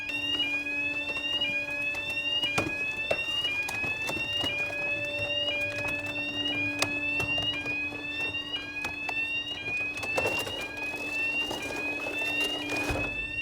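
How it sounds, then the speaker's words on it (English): Baler machine alarm at a recycling yard during bale ejection: a loud, continuous repeating electronic alarm of rising sweeps over a steady drone, with occasional clunks from the machinery. "The alarm's going to continue until the process is finished"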